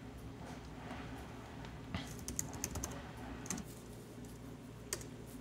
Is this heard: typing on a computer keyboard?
yes